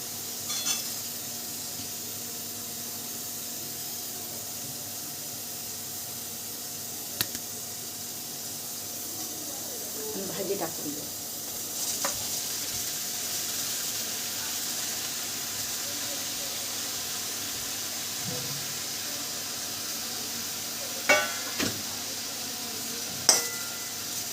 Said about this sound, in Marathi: थोडंसं लसूण आणि हिरवी मिरची परतून घेतली ना तर लसूण थोडासा फ्राय होतो